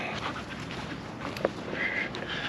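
A dog pants steadily and breathily close by, with a faint high whimper and a light tap partway through, over a constant background hiss.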